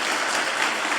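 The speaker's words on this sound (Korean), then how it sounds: "우리 한번 따뜻한 우리 환영의 박수 한번 보내주시겠습니다" Church congregation at a Korean Sunday service claps in warm welcoming applause, a dense steady patter of many hands filling the room, loud and continuous with no voices over it.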